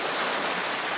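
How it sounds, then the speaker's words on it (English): Water from an emptying narrowboat canal lock rushes in a loud, steady, broadband roar with no pauses. "Back to normal locks. Water's emptying out."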